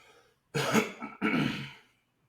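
A person coughs twice, harsh, close bursts separated by a short pause, alone with no speech around them.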